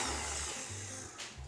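An electric mixer whirs through cookie batter made with vanilla and an egg, a close, steady motor whine whose pitch shifts slightly as it runs, with a brief scraping burst near the end.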